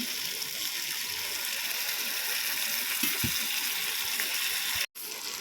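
A splash of water goes into a pan of Veg Manchurian, with fried vegetable balls in tomato sauce, making a steady, close hiss that runs evenly and ends in a brief dropout near the finish.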